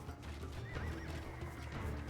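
A horse whinnies in Age of Empires II during a battle with horse archers and crossbowmen, a short, fairly faint neigh mixed into a dense bed of game battle noise.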